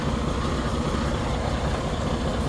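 A truck engine with a possible blown head gasket, faulty fuel injectors or EGR fault idles while blowing white exhaust smoke, giving a steady, loud, low diesel rumble up close with no talk.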